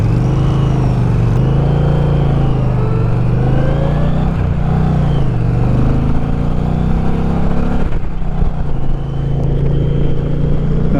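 A 2024 Indian Challenger Dark Horse motorcycle engine, rated 122 horsepower and 128 foot-pounds of torque, droning loud and close while riding, with a deep steady rumble that rises and dips gently as the throttle shifts, continuous throughout with no talk.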